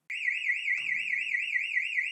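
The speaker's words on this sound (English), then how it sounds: "The siren's capable of producing a sound of up to 95 decibels" A wireless boundary alarm siren sounds loud and close, a continuous warbling electronic wail that starts abruptly, holds for about two seconds and cuts off sharply.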